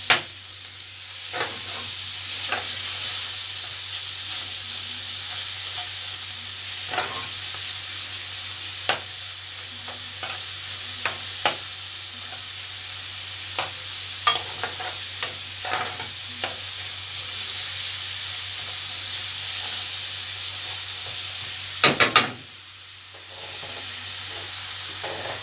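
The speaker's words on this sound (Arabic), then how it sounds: "شوحت اللحمة" Minced meat sautéing in a hot pan sizzles steadily and close up, with scattered sharp clicks and scrapes from stirring and a brief clatter near the end.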